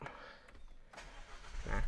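A car's engine starts with a push-start button, a soft cranking burst near the end rising into a low steady idle, after quiet background and a few faint clicks.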